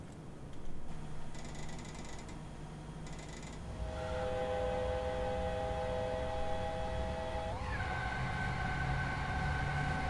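S-Bahn train in Train Simulator 2020 pulling into Troisdorf station, cab rumble rising as sustained electric whine tones settle and shift pitch, with a steady mechanical drone under the ambient noise, no voices.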